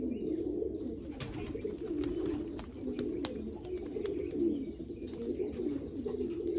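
Pigeons kept for sale at Baruipur cooing in low repeated throaty calls, close and continuous, with faint clicks and rustling in the background.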